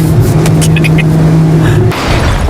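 A loud car engine drones steadily at high revs as the car does donuts on a private racetrack, with tire and engine noise filling the space before the pitch drops near the end.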